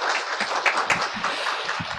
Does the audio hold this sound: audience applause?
yes